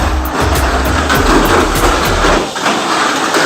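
A Tamiya Mini 4WD toy race car motor whirs loudly and continuously up close, a buzzing mechanical drone with a shifting pitch and no speech.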